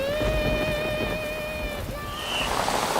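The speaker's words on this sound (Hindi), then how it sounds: "लगता नहीं है बारिश आज रुकेगी।" Heavy rain pours steadily with thunder rumbling low underneath, a dense continuous wash of sound during a thunderstorm, while a sustained tonal melody plays over it.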